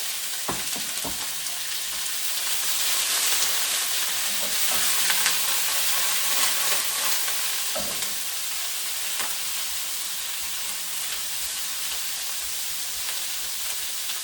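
Chive flowers and egg fry in a pan with a steady bright sizzle and hiss throughout, punctuated by a few sharp clicks and scrapes of stirring, with no voices.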